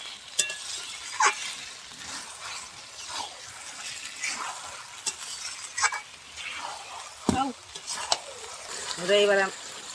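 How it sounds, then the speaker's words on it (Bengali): Meat and spices sautéing in a pan for a festive Bengali curry: a continuous close sizzle carries repeated scraping and clinking strokes of a spoon stirring, irregular in rhythm, with a louder rattling scrape near the end and no speech. "এবার ভালো করে মশলা মাংস এক জায়গায় ভালো করে কষিয়ে নেব"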